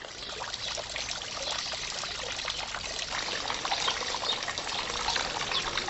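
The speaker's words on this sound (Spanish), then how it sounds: "el agua exhibe un catálogo de frecuencias diversas" Water trickles and splashes steadily in the flowered courtyard patios of the Palacio de Viana in Córdoba, a continuous close babble of a fountain or small stream with no voices.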